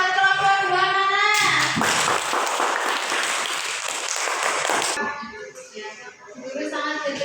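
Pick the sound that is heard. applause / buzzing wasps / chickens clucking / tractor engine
applause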